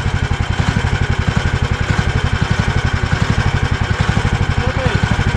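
Buran and BTS Arctic snowmobile engines run loud and close with a steady, rapid pulsing two-stroke chug throughout.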